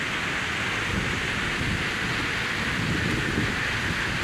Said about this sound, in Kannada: ಗಾಳಿ ಮಳೆ ಸ್ಟಾರ್ಟ್ ಆಯ್ತು